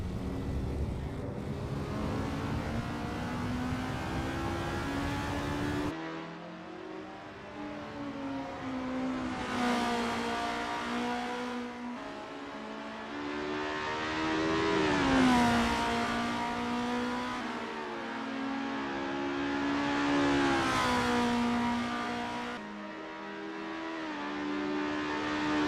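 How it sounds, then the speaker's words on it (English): Formula race car in Assetto Corsa on a practice flying lap at Mont Tremblant, engine screaming through repeated upshifts and rising revs, then dropping on braking, loud and continuous from onboard, no talking. "Renault 99 is on their first practice flying lap."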